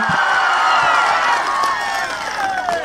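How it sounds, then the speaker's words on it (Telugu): An audience at a political rally in Darsi claps and cheers loudly, a dense burst of crowd noise with voices shouting over it that eases slightly toward the end. "ఆ అమ్మాయి చెప్పింది నిజమనుకుంటే గట్టిగా చప్పట్లు కూడా చెప్పండి"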